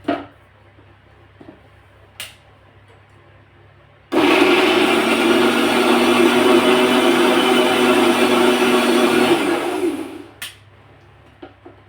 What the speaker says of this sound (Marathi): या मिक्सरच्या जारमध्ये टाकून बारीक अशी पेस्ट करून घेणार आहोत